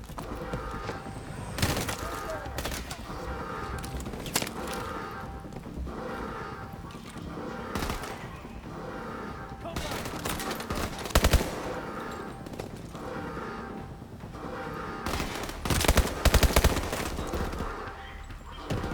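SMG gunfire in the first-person shooter Call of Duty: Advanced Warfare, rapid bursts repeating across a busy in-game battle with loud impacts and effects, and faint talk now and then.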